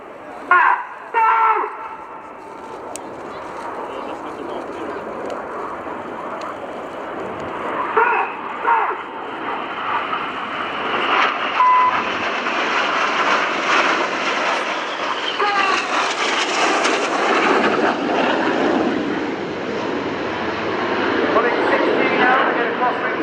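Red Arrows BAE Hawk T1 jets fly rollback manoeuvres at an airshow, their engines roaring loudly and steadily throughout, swelling as they pass with a broad rushing sound; a commentator talks over the noise.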